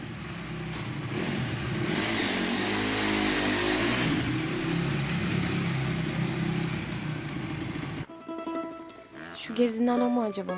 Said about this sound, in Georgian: ამ ბორცვებზე მოტოციკლის სიარული სად გაგონილა?